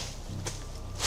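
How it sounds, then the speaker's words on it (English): A single footstep lands close by in dark autumn woods beside a camping van at night, a brief soft crunch over a steady low background hum. "That was like a footstep"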